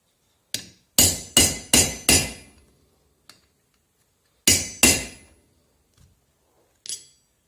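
A hammer strikes a domed rivet on a pikeman's pot helmet with crisp metallic blows, a quick run of four, then a pause, two more strikes, and a few lighter taps, close and clear.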